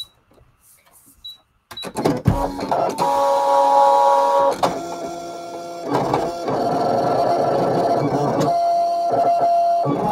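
An electronic craft cutting machine starts up after a brief click and whirs through cutting a paper shape, with motorized buzzing, tonal whines and shifting carriage movements, loud and close, no voices.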